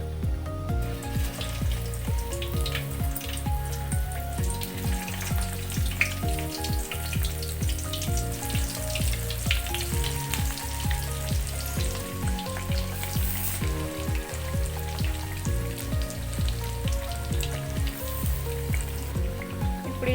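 Masala-stuffed bitter gourds frying in hot oil in a kadai: a dense, continuous sizzle and crackle, loud and close, with a steady rhythmic clanking or scraping pulse underneath throughout.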